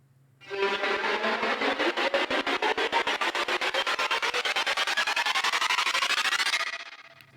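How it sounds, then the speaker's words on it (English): A trailer-style riser built from a rapid stutter effect: dense, evenly chopped pulses that swell in brightness and intensity over about six seconds, then cut off cleanly, with no voices. "for the rises, here we have the stutter effect featured"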